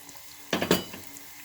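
Potato dough frying in hot oil in a saucepan gives a sudden loud burst of sizzling and crackling that quickly fades back to a low background hiss.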